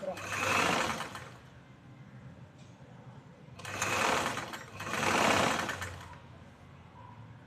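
Sewing machine top-stitching a choli, three bursts of close whirring stitching with quieter gaps between them; a voice is heard faintly in the background.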